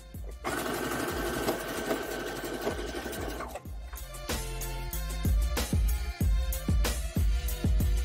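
A sewing machine stitches a dress seam in a long steady whirring run, then stops and restarts in short bursts with clicks and thumps as the fabric is adjusted, close by and without talk.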